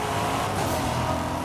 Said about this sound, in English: You can hear the engines roar